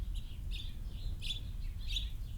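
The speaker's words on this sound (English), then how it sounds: "she's still a wild bird" A wild American robin chirps in short, high, repeated calls, about four bursts at irregular intervals over a steady low background rumble.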